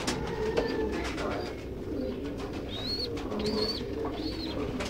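Pigeons coo repeatedly amid a busy, noisy background of chatter and rustling at a bird market in Ankara, Turkey, with soft bird calls close by.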